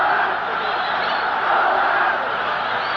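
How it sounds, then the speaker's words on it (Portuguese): Internacional football supporters in a stadium chant "Colorado", heard as a dense, steady crowd roar that stays loud throughout without clear breaks. "A torcida gritando Colorado"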